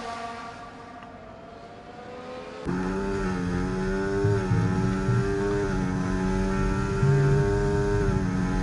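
Race cars in a racing game at a China round rev and accelerate, a sustained engine whine that jumps louder midway and holds steady with layered overlapping tones.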